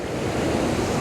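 Ocean waves rolling onto the shore form a loud, continuous wash of surf, with wind buffeting the microphone throughout and no voices.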